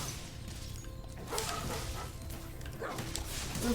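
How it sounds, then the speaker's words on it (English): Dogs in the Spyro Reignited Trilogy video game bark and yip in short bursts over a steady game soundscape, moderately loud with faint background effects. "Those dogs are pretty cute."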